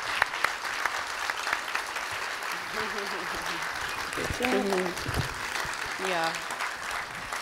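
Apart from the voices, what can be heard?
audience applause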